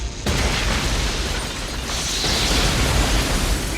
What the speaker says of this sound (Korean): 결국 로튼 박사의 실험실은 폭발합니다.